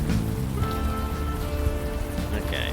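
Steady rain patters on surfaces in the video game Unavowed, a dense continuous hiss with faint musical tones beneath and a short bright chime near the end.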